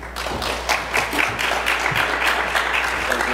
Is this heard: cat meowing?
no